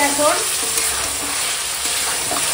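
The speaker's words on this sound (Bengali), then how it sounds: "মাংসটাকে শুধু ভাজছি" Chicken with tomato and ginger-garlic paste fries in a pan, a loud, dense sizzle with brisk stirring scrapes, close up and without speech throughout.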